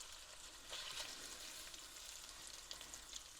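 Salmon fries in hot oil in a pan, giving a steady, fairly quiet sizzling hiss with small crackles throughout and no talking.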